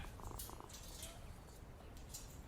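A cat purrs steadily in Sherlock Holmes Vs Jack The Ripper, a soft, continuous rumbling drone that stays faint and even throughout.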